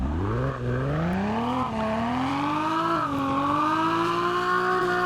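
An inline-six 3.0 car engine in a Roblox drift game revs in smooth rising sweeps, its pitch climbing with slight dips between gear-like steps, steady and loud with no talking.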